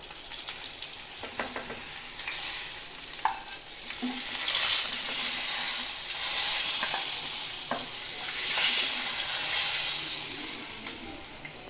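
Chopped onions sizzle and crackle in hot oil with black cumin seeds, with a spatula stirring and scraping the pan now and then; the frying swells and fades in waves.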